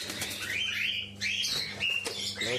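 Small parrots such as pineapple conures and cockatiels chirp and tweet in a home aviary, a quick run of high, sweeping calls close by, with brief wing flutters over a steady low hum.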